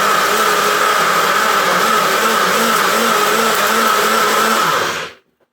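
A Magic Bullet blender whirs steadily while blending a jerk chicken marinade, running loud and continuous for about five seconds before cutting off abruptly.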